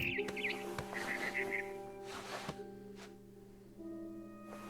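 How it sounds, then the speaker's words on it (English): A barn swallow chirps in short, high twittering bursts over a steady electronic background hum, a few isolated clicks scattered through, in the video game What Remains of Edith Finch. "Then I heard chirping outside my window."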